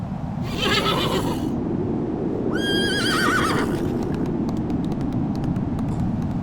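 A horse whinnies twice, loud and high, over a continuous rapid clatter of hooves, as a story sound effect.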